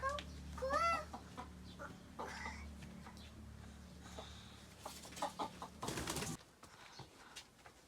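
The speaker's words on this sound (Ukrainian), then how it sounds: "Е, тут ще курочка." Hen clucking in a village yard among other chickens and birds, with repeated short clucks and calls, a brief rustling burst near the end, no talk.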